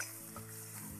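Chopped onion sautéing in a tempering on a stove, a continuous close sizzle with faint stirring scrapes, no voices.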